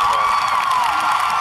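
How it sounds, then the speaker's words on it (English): A crowd at a high school basketball game erupts in cheering after a three-pointer, loud and sustained throughout, with shouts and whoops mixed into the continuous roar. "the crowd goes wild."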